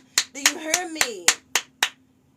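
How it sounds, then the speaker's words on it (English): Seven sharp hand claps in a steady rhythm, spaced about a third of a second apart, ring out close and loud while a voice talks over them during a tarot reading. "can I just put my cards down real quick and give y'all a round of applause?"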